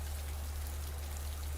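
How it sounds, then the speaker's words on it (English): Heavy rain pours down in a dense, steady hiss, loud and continuous with a low rumble underneath and no voices. "The rain falls in full fury, droplet after droplet bouncing off the old wolf's raincoat and splashing onto the floor."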